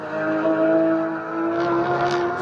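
A GT race car drives through corners at Utah Motorsports Campus, its engine a steady loud droning whine with slight pitch shifts, carrying on continuously.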